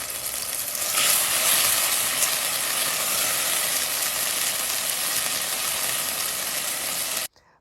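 Garlic fries in hot oil with a dense, even hiss that swells after a second, holds steady, then cuts off abruptly near the end; no voices are heard.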